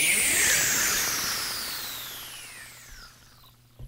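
Swirling synthesizer effect from a Thor synth: a bright, noisy whoosh whose sweeping tones glide downward and fade over a few seconds, heard alone.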